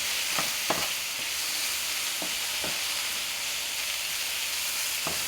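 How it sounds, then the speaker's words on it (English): Steak and onions frying in a pan give a constant soft sizzle and hiss, with a few sharp utensil scrapes as they are stirred, heard up close without speech. "Let's give it a good mix."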